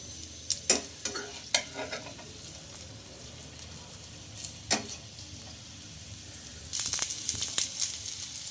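Wheat flour snack pieces roast in a pan and are turned over with a utensil, giving soft, sparse scraping clicks over a faint sizzle that grows louder toward the end, with no talking.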